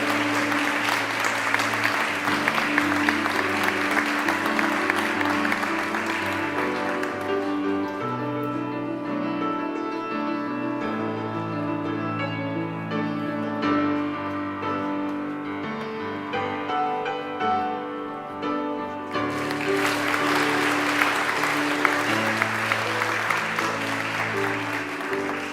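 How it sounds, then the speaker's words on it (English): Ceremony audience applauding at the Academic Ceremony of TalTech's 107th anniversary, a steady dense wash of clapping throughout with music playing beneath it, swelling louder near the start and end. "To give a big round of applause to doctoral who were not able to participate in today's ceremony."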